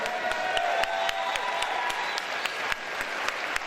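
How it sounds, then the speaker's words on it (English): A crowd at a Contenders fight event applauds and cheers for two fighters, steady dense clapping with a few sharper claps standing out throughout. "Give them a massive round of applause."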